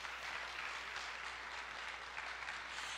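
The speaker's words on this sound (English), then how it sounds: "Lori, let's give her a big hand clap" An audience gives a big round of hand claps for Lori Falby at a church gathering, a dense, steady wash of applause that holds at even strength throughout without talk.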